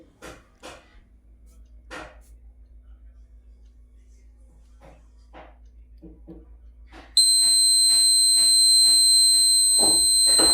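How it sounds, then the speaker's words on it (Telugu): Spoken words come first, then a loud, continuous electronic alarm tone from a homemade heat-triggered fire alarm switches on and keeps sounding steadily while a person talks over it. "అది హీట్ అయినప్పుడు మనకైతే బీప్ సౌండ్ అనేది అయితే వస్తుంది."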